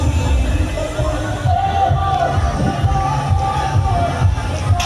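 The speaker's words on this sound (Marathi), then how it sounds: "सूर्यास्त झाला तरी प्रचंड गर्दी आहे" A busy crowd fills a Goa beach after sunset, a dense, steady babble of many voices blending into a continuous hubbub that holds at an even level throughout.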